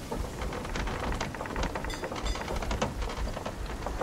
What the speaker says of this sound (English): No, it's water from the rain.